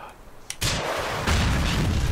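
Rocket fired at pedestrians in the video game GTA IV: a short pop, then a loud roaring blast that swells again into a sustained rumbling boom.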